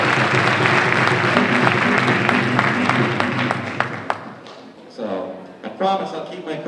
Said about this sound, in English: I do want to make sure we have a round of applause for all the volunteers that got us to this point tonight.